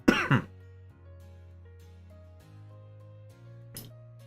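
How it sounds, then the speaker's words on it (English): A single sharp, close cough or throat-clearing bursts out at the very start, followed by near silence with faint sustained background music tones and a small click near the end. "Darn cough just snuck up on me."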